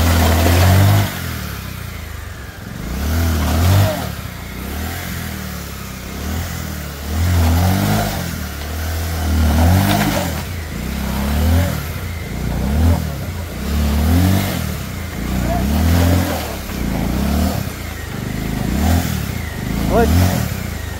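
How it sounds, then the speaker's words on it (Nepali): A motorcycle engine revs repeatedly as the bike is pushed along a flood-damaged landslide road, rising and falling in rhythmic surges of throttle close by, with a voice talking over it at times. "यहाँ सामान्य मुटुले यो बाइक चलाउन गाह्रो छ है यहाँनिर चाहिँ"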